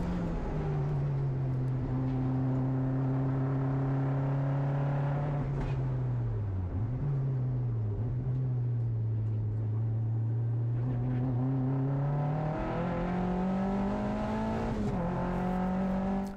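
A GT3-style race car is heard from inside the cockpit as it drives a track, its engine a steady loud drone that dips and rises through gear changes and shifting revs, with no voices.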